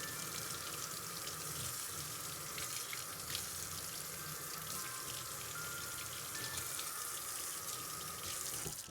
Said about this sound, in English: Just wash that off, get all the stuff off the blade